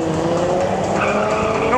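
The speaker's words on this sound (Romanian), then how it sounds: "să facem un burnout din 4 roți" Car tires squeal in a sustained, loud four-wheel burnout at a drifting event in Arad, with a roaring engine, a voice talking faintly underneath.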